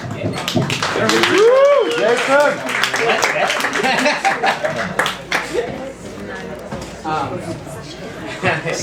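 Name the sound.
audience applause for a performer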